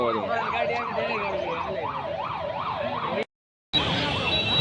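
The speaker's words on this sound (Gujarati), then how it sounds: "જો આમ પોલીસની ગાડી વિશમાં" A police car siren wails, rising and falling in a steady repeating cycle over road noise during Holi (Dhuleti) celebrations, cutting out briefly near the end before returning loud.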